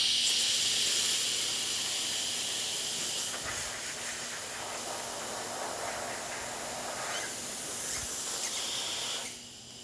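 Steam wand on a La Pavoni Europiccola espresso machine hissing steadily and loudly for nearly ten seconds, the broadband rush shifting slightly in tone midway before cutting off abruptly at the end.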